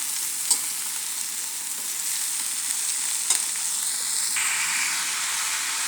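Chopped tomato and softened potato fry in a pan while being stirred, making a constant hissing sizzle with a couple of faint spoon clicks against the pan and no speech.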